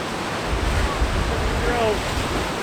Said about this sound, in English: It's very windy down here